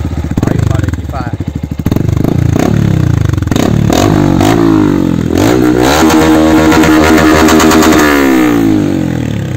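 A Honda Start 160 motorcycle fitted with a Cadron aftermarket exhaust revs loudly up close, the engine note rising and falling through repeated throttle blips with a raspy, crackling edge, while people talk over it.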